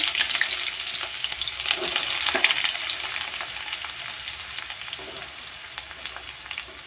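Onions fry in a pan for egg masala curry with a steady crackling sizzle. Occasional scrapes and stirring clinks sound close by, and the sizzle eases slightly toward the end.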